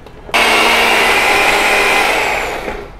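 Mixer grinder blending ripe papaya pulp starts abruptly, a loud, close, steady motor whir that holds for a couple of seconds and then trails off near the end, with no talking.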